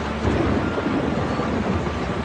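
Rain and thunder outside: a dense, steady wash of rain with low, rolling rumbles underneath, fairly loud and continuous, with no voices.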